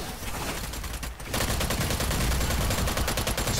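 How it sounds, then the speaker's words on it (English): Gunfire in the co-op video game Strange Brigade, a loud, dense barrage of rapid shots that briefly dips and then surges into heavier sustained fire. "Splendid shooting, Strange Brigade."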